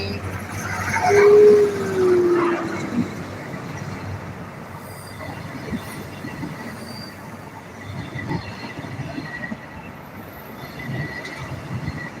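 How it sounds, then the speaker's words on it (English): A model train clatters steadily along its track with a brief squeal early on, a low continuous rumble and light clicking throughout. "that train going ding ding ding with the rails"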